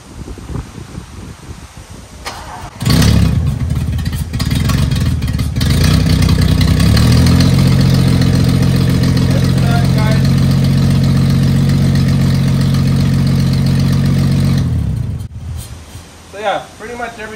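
A 1974 Toyota FJ40 barn find cranks and fires, then settles into a steady, loud, close idle that runs for about twelve seconds before shutting off, with brief talk around it.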